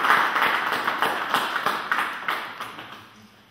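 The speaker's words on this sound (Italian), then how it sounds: "Ma gli facciamo un applauso su Burattino!" Applause for a puppet at a carnival presentation in Francavilla al Mare, heard as a fairly close patter of claps that gradually fades over a few seconds.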